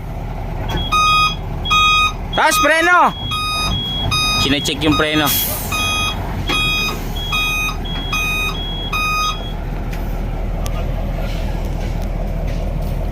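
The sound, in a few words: Fuso truck reversing with reverse beeper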